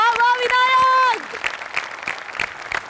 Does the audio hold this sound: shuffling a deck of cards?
no